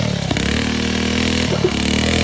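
A Predator 420 go-kart engine revs steadily with harsh, buzzy tone, breaking into a couple of sharp popping valve bursts toward the end, close and loud throughout.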